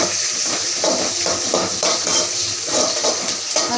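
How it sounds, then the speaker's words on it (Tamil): Onions sautéing in a pan for chicken chukka, a steady broadband sizzle with repeated soft stirring scrapes roughly every half second, close and continuous with no talking. "அதுக்கு இடையில வெங்காயம் வதக்கிட்டே இருக்கணும்"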